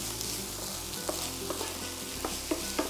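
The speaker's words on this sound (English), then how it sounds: "let this fry for a little bit until the bacon just about starts to brown and the onion is translucent" Bacon and onion fry steadily in a pan with a constant close sizzle, punctuated by a few light scraping strokes as the mixture is stirred; no voices.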